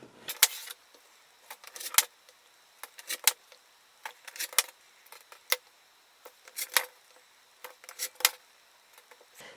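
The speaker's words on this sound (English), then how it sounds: "Just going to cut every 2 inches." Scissors cutting a fabric panel into strips, sharp crisp snips arriving in small clusters at a steady pace, close and clear over a quiet room.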